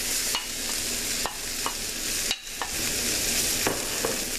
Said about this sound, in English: go ahead and mix these around and let these saute for, I want to say, about a good 15 minutes or so at least